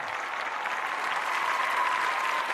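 Steady, even crowd applause fills an arena at a cage-fight event for a 52-kilogram blue-corner fighter from Russia, a continuous dense patter of many hands throughout.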